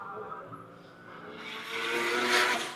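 A Mazda MPS drives past, its engine note swelling from faint to louder as it nears over a short moment, fairly distant and without voices.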